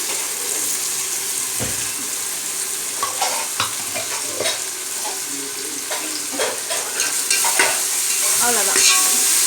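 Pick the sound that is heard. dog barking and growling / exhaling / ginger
ginger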